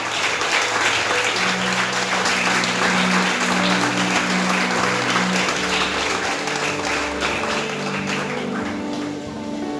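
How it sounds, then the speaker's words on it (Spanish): A church congregation claps loudly and steadily for several seconds, with dense, continuous applause and a low hum underneath. "Denle un aplauso fuerte a la palabra del Señor."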